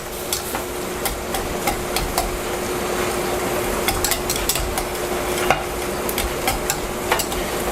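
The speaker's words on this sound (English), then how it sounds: "I'm going to whisk that all together." A whisk stirs a quarter cup of milk into a mixture in a bowl, giving a steady, close scraping and swishing with irregular clicks against the bowl and no talk.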